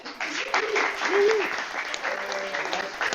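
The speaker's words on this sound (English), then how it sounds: "Let's give a round of applause to this illustrious panel." An audience at a real-estate sales meeting applauds a broker panel, a short burst of clapping mixed with voices and a brief tonal murmur, moderately loud throughout.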